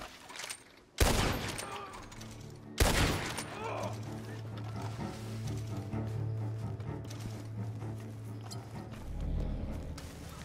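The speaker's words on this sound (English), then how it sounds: "They keep shooting at me." Video game gunfire during a Marshal Davies Montez mission: two loud, sharp gunshot blasts near the start, followed by a sustained low engine-like drone and scattered clatter, with no voices.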